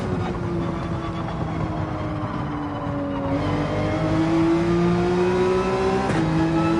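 A race car in Gran Turismo 7 at Willow Springs drones steadily under nitrous boost, its engine note climbing in pitch through the second half as it accelerates hard, with no voices.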